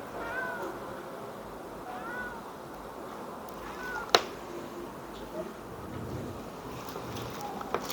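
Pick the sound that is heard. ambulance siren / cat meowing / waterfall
cat meowing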